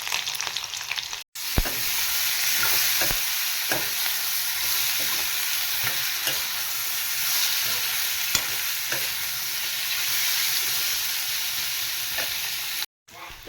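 Onion and green chillies sizzle loudly in hot oil with ajwain seeds, with frequent scraping and tapping as they are stirred in the pan; the sound runs steadily between two short cuts.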